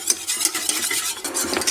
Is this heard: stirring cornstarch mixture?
yes